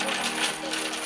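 Coins drop into bamboo savings tubes, a dense metallic jingle and clatter that continues briefly, near and clear.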